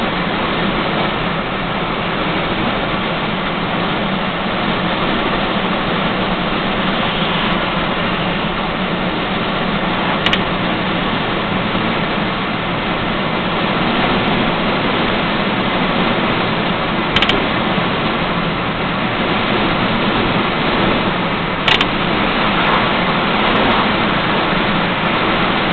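V8 dump truck engine running steadily, a constant loud broadband rumble and whoosh that holds without a break for nearly half a minute, close to the listener, with no talk.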